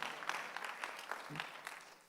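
Applause from a church congregation during a Sunday worship service, fairly quiet and distant, with scattered claps over a soft roomy background for about two seconds.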